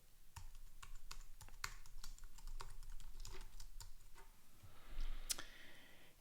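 A computer password being typed on a keyboard during a software installation, a quick run of close, crisp key taps with uneven spacing and a slightly louder click near the end, no speech.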